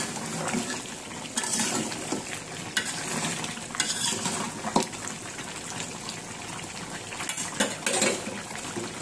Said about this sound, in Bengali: এখন এই যে মাংসটা নাড়া দিব